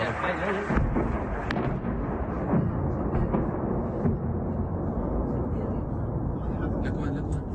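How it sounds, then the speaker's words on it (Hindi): Loud, continuous deep rumble and roar of explosions from an air strike on a hotel in Iran. It stays heavy and sustained from start to end, with a sharp burst near the start and voices shouting beneath it. "धमाके की जोरदार आवाज अगर आप सुन सकते हैं।"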